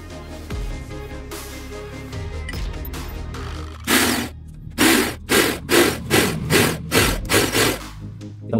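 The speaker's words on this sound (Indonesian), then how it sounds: "Kita lebarkan dulu lubang-lubangnya biar ini kepalanya bisa masuk." Holes in a bicycle pump handle being widened with a hand tool, first soft scraping and handling, then a run of loud regular rasping strokes, close and alone.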